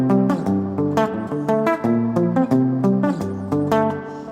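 Electric guitar through effects playing chords that climb an octave with an added second, a steady rhythm of ringing plucked notes with slight echo, played alone.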